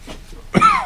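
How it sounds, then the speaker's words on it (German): A single short cough bursts out after a moment of faint breathy noise, close and fairly loud. "Ein bisschen Husten zu kämpfen."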